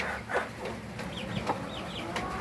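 A hybrid-farm rooster with a beard-like wattle crows and clucks close by in short repeated calls, with other fowl clucking in the background of a busy farmyard.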